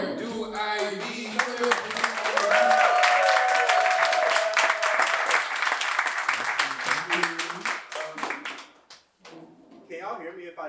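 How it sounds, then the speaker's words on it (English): An audience at a poetry crawl claps and cheers for a poet, with dense, energetic applause under excited voices that fades out, followed by a person speaking. "Clap it up for Do IV."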